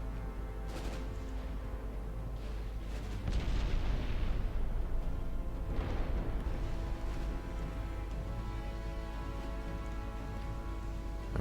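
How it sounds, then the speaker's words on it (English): Torpedo detonation in the naval warship game Ultimate Admiral Dreadnoughts, a rumbling blast that swells briefly near the middle over a steady low drone of battle ambience, with no voices. "Torpedo detonation."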